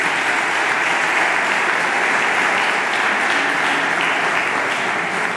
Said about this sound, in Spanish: para quien pido también un fortísimo aplauso